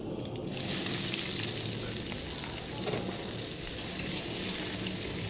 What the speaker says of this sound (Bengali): এবার ওই মাছ ভাজার তেলেই দিয়ে দিচ্ছি শুকনো লঙ্কা আর সামান্য পরিমাণ কালো জিরে। তারপর দিয়ে দেবো পেঁয়াজ।